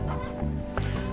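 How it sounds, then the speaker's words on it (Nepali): Chickens cluck in a rural farmyard pen near goats and cattle, a few short close calls over a low background hum. "यतापट्टि कुखुराहरू चढ्दै रहेछ"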